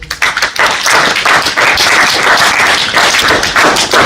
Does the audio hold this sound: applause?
yes